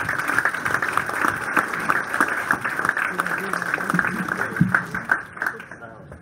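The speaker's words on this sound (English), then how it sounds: "One more round of applause for Lynn Pickard." Scattered clapping from an audience at a 2018 Wall of Pride induction ceremony, honoring Lynn Pickard, runs at moderate level with murmured voices mixed in and fades toward the end.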